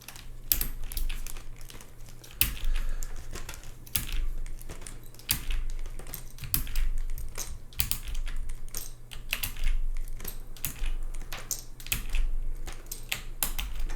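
Someone runs a typing test on a DBD x GSD CCRE prototype mechanical keyboard, producing a steady, close stream of crisp key clacks with occasional heavier thocks and no talking.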